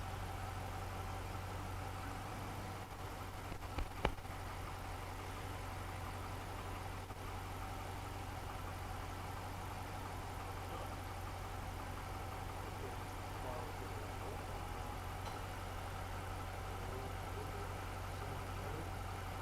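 An Audi car engine idles steadily with a diesel-like clatter, a continuous close drone with a single brief click about four seconds in.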